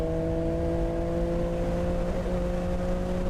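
An Acura NSX engine on a track pulls steadily toward redline near its 7,000 to 8,000 rpm limit, a loud continuous drone with strong tonal harmonics, holding a sustained pitch throughout with no talk.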